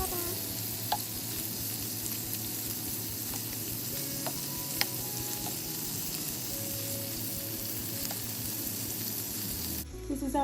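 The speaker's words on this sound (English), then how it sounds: "I love to hear the sizzle" Seasoned shrimp sizzle steadily in a hot pan as they are tossed in sauce, with a continuous close frying hiss, scattered pops and occasional clinks of stirring throughout, and a brief louder shift at the very end.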